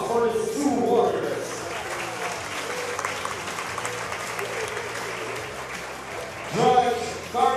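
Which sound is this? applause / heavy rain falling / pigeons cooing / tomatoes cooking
applause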